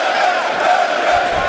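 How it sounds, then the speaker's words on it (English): Boxing arena crowd roaring steadily throughout, a dense continuous wash of cheering and shouting that stays loud without pause. "The crowd beginning to rally behind one of their own."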